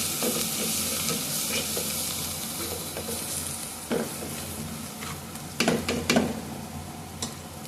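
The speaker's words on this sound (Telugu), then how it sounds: "మళ్ళీ ఇప్పుడు ఒకసారి బాగా కలబెట్టాలి." A spoon stirs chili powder, coriander powder and garam masala into a sizzling chicken curry base in a pan. Continuous frying crackle sits under scattered scrapes and clinks of the utensil, with a few louder knocks near the end.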